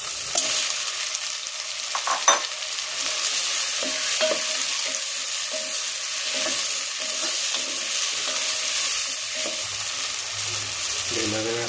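Shrimp and vegetables sauté in a hot pan with a steady sizzle, broken by several utensil stirs and scrapes close up. No one speaks.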